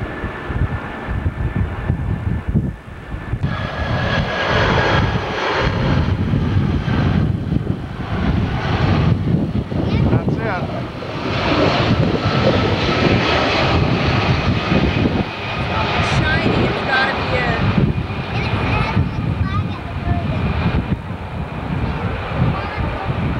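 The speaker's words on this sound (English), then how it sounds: "That's President Bush's plane." President Bush's airplane passes overhead in 1991, a loud, sustained engine roar that swells and lingers for over twenty seconds, with people talking underneath.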